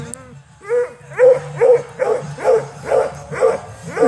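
Coonhound barking at a rabbit, a rapid run of about seven loud, close barks in an even rhythm with no voices over them.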